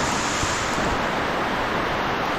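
Rain falling near Tangta village in the hills of West Bengal by the Bhutan border, a dense, steady hiss that stays even and unbroken for a couple of seconds.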